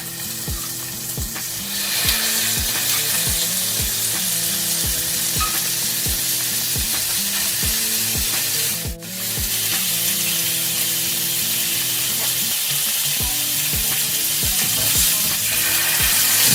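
Pork cheeks sizzle and fry steadily in a little oil in a pan, a continuous close, loud crackle that briefly dips midway, with no talking.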